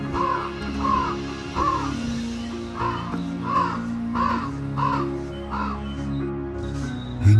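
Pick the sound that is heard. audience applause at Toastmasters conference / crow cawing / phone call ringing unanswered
crow cawing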